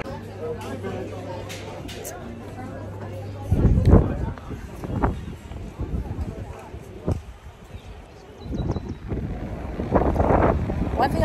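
Strong wind at Camps Bay buffets the microphone in a steady low rumble that surges louder partway through, with voices murmuring faintly underneath.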